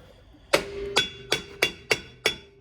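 A hammer bangs on the rear suspension of a 1979 Chevrolet Camaro, six sharp metallic strikes at a steady, unhurried rhythm with a ringing tail after each, close and fairly loud.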